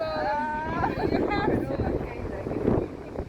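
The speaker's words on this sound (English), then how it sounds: "I can't hear you very well with the wind" Wind gusts buffet the microphone steadily outdoors at a protest march, a constant low rumble running through the whole stretch with voices speaking over it.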